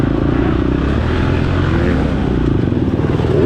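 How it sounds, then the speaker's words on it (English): A two-stroke dirt bike engine drones and revs during an off-road race, a loud, steady buzzing roar that rises slightly toward the end, close by and continuous. "Now there's a 2-stroke revving behind me"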